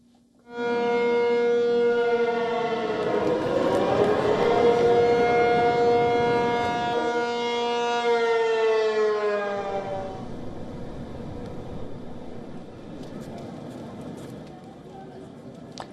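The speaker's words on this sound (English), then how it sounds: "These are the images of deafening air raid sirens wailing across the city of Taipei" A loud air raid siren wails in a long, rising and sustained tone across Taipei during a civil defence exercise, then slowly falls away and thins out.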